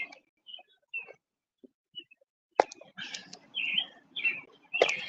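Small birds chirp and tweet in scattered bursts, sparse and soft at first and then denser and louder, with quiet talk faintly underneath.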